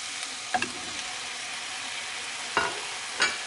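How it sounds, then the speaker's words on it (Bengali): Vegetables fry in a small, crowded pan with a soft, steady sizzle, punctuated by a few sharp stirring scrapes and clinks, close and fairly quiet. "দমকা আছে, এগুলোকে ভেজে নিচ্ছি"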